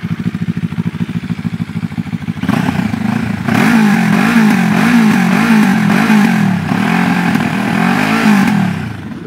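A QJ Motor 700SRT motorcycle idles with a rapid even thump, then revs up into a loud, husky, burbling engine note that rises and falls across several throttle blips before settling.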